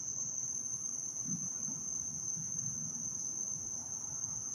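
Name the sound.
crickets chirping outdoors at night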